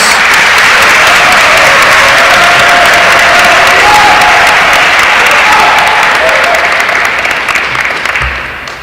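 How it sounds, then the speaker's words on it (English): A large youth convention crowd at a political party primary breaks into loud, sustained applause with some cheering, a dense wash of clapping that fades out near the end. "Can I get a big round of applause for your party chairman, your party secretary, please?"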